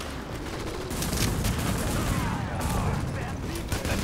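Rapid automatic gunfire rattles continuously as a whole magazine is emptied in the shooter game The Division, a dense loud burst of shots throughout.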